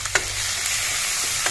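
Bottle gourd curry ingredients with onion and salt are stirred in a pan, giving a steady frying hiss with a couple of soft spoon scrapes, close and alone.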